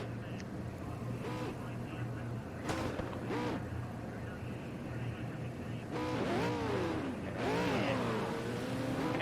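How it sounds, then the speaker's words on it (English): V8 Supercars sit in the Monza pit lane in Project CARS 2, with several short engine revs rising and falling over a low idle hum. The revs come in brief bursts, with the louder ones near the end. "A bit of revving going on as the drivers are adjusting their setups."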